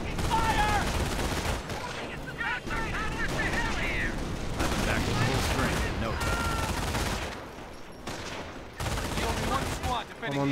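Rapid bursts of rifle and machine-gun fire crackle through a Company of Heroes battle at a V2 base, volleys overlapping with explosions and shouted soldier voices throughout.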